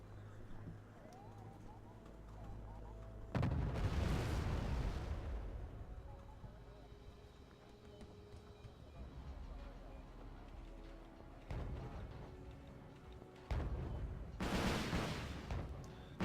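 Deep booming explosions and gunfire from the strategy game Wargame Red Dragon erupt in two heavy rumbling bursts, with a commentator talking over the battle noise throughout.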